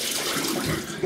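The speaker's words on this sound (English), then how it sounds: "let's wet this brush." Tap water runs steadily onto a shaving brush to wet it, a close, continuous splashing gush in a bathroom sink.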